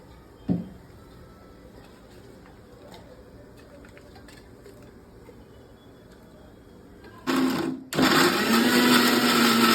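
A kitchen blender grinds onion and tomato into a gravy for chicken curry, starting with a short loud whir, pausing briefly, then running steadily at full power after a quiet stretch of household sounds.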